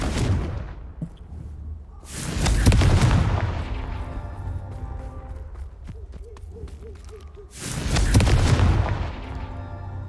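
Confringo fire spell from the Hogwarts Legacy video game, heard as two heavy booming blasts several seconds apart, each swelling and fading, with a faint rumbling game background and a short warbling tone between them.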